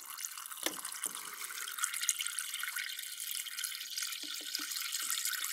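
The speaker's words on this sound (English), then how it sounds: "and then you add some water." Tap water runs into a container for a meal prep, a steady hissing stream with a few small clunks and drips, close by and continuous.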